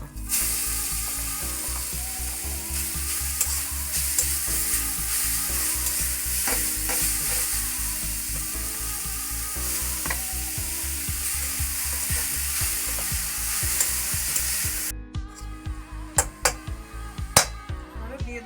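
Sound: grated carrots being stirred and fried in a pan for barfi

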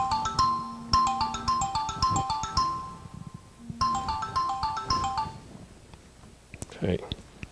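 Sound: mobile phone ringing

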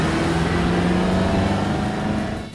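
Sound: BMW M5 engine roar while accelerating

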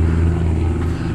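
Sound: small student training airplane flying low overhead

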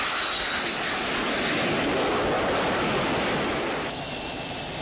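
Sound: fighter jet aircraft engine flying

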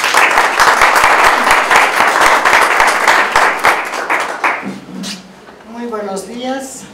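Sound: audience applause

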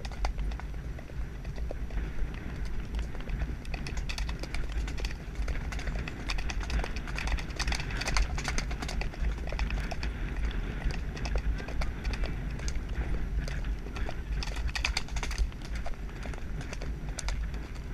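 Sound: horse cantering, hooves on ground

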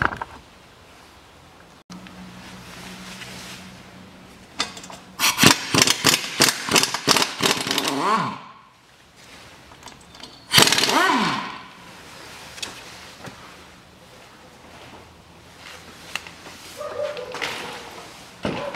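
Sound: unscrewing ball joint bolts on a Lada Priora

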